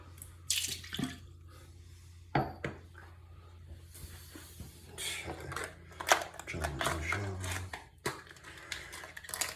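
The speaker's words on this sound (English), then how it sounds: "aftershave splash on my face." Aftershave splash being patted and slapped onto a face after a wet shave with Marty shave soap, giving soft wet slaps and liquid handling at close range over a quiet background with faint room noise.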